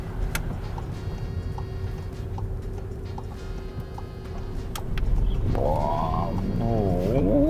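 Car engine revving loudly during a driving lesson, a steady low hum that swells midway into a rising, wavering revving drone, close and continuous.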